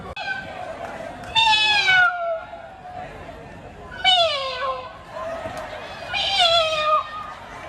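Contestants at a Lagos camp animal-sounds contest take turns imitating cat meows, three loud drawn-out vocal meows with falling pitch spaced a couple of seconds apart over a background murmur of people.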